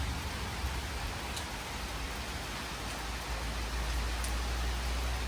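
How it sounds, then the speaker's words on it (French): Steady rain falls across the whole stretch on a mountain hike on Moorea, a dense hiss of drops with no voices, constant and fairly close. "Donc là, il pleut"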